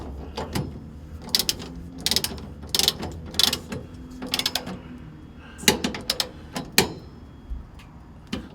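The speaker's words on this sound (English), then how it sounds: "the 7/8 inch usually will go over top of them to tighten them." A 7/8 inch socket ratchet tightens square-head bolts on a tow vehicle hitch, giving repeated close, sharp bursts of ratcheting clicks with brief pauses between strokes.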